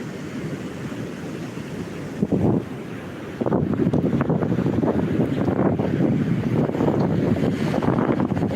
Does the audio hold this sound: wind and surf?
yes